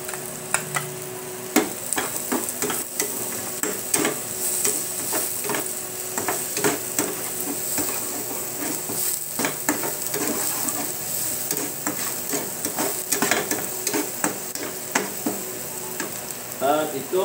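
Onions sizzle steadily in a hot pan of garlic and chili for garlic butter red snapper, a dense continuous crackle with frequent sharp scraping stirs and clinks throughout, close and fairly loud, no talking.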